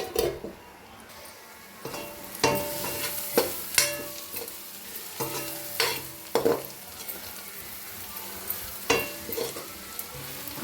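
Onions sizzle softly in a pan with a lid nearby, and a spoon strikes and scrapes the pan in irregular clinks. Quiet stretches of low frying hiss fall between the bursts of stirring.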